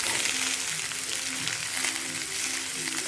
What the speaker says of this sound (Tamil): கொஞ்ச நேரம் இது எண்ணெயிலே வதங்கட்டும்